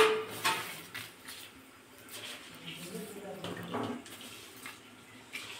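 Water runs and splashes into a cooking pot for tomato rice in a home kitchen, a soft uneven trickle with faint clinks of a metal vessel, fairly quiet.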